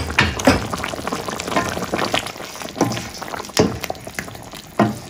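Goat stew (kalderetang kambing) simmering in a pot, with soft bubbling and intermittent louder pops and gurgles from the liquid, close and moderately quiet.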